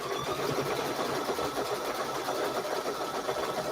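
Home sewing machine running steadily while doing decorative stitching on fabric, a continuous fast mechanical whir and rapid needle chatter at close range, with no pauses and no voices.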